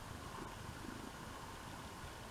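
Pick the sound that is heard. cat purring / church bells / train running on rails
cat purring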